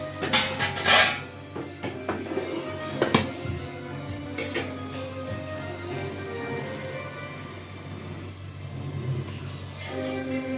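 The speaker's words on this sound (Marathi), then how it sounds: "आता याच्यामध्ये आपण भात टाकून घेऊया थोडा थोडा करून" A spoon clatters and scrapes against a pan as cooked rice is tipped into a spiced masala for veg pulao and stirred. Sharp metallic knocks come early, followed by softer scraping and mixing over a low background hum.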